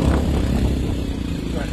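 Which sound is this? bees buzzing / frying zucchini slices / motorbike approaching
motorbike approaching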